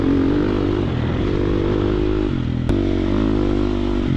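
A Triumph TF250X 250cc motocross bike is ridden hard close up, its engine buzzing and revving continuously with shifting pitch, a brief sharp clatter midway, and no speech.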